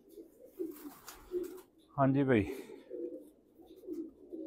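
Pigeons kept for flying coo softly and repeatedly nearby, low rounded calls that come and go under a man's speech, with one louder call in the middle.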